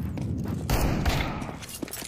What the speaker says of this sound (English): But he shot me through the fucking wall.